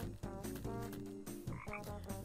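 In the video game Tasty Planet, a frog croaks in a steady run of deep, buzzing calls that is loud and close, with no talking.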